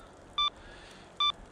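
An avalanche beacon switched into search mode gives two short, sharp electronic beeps about a second apart over faint background noise.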